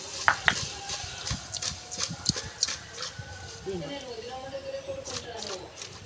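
A spoon stirs small fish curry in a pan, scraping and clinking in quick irregular strokes over a soft sizzle while a person talks throughout.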